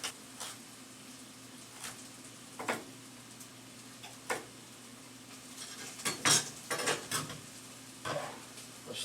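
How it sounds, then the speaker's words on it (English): A knife chopping carrots on a board, scattered sharp taps spread out at first and then a quicker cluster of cuts, close and fairly quiet over a faint steady hum. "Let's just cut these carrots up really fast."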